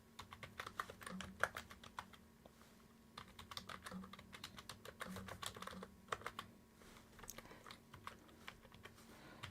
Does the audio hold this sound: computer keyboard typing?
yes